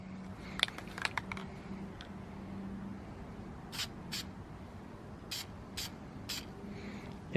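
Short hisses from a spray can as paint is sprayed onto a motorcycle shock linkage part lying flat, coming in several brief bursts close by after a few light clicks and taps, with no voices.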